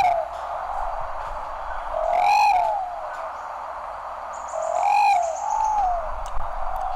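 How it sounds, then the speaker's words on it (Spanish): Ruddy pigeon (Patagioenas subvinacea), the paloma colorada, gives two clear, moderately loud cooing phrases a few seconds apart, each a short run of rising and falling hoots, over steady insect or forest background hum. "Rody pigeon patagiovenas subbinacia, paloma colorada."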